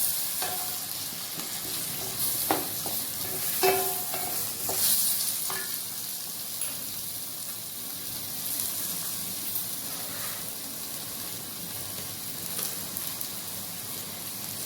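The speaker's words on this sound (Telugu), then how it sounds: "ఇది బాగా ఫ్రై కావాలి." Mushrooms fry steadily in a pan for a mushroom chukka with a continuous close sizzle, broken by several sharp scraping stirs of a utensil against the pan and no talking.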